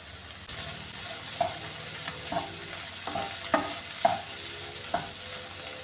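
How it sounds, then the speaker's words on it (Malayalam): Bitter gourd pieces fry in a pan for a stir fry, sizzling under a series of about six distinct spatula scrapes and knocks, close and clear, with no voices. "ഇനി ഇതൊന്ന് നന്നായിട്ടൊന്ന് ഫ്രൈ ചെയ്തെടുക്കാമേ."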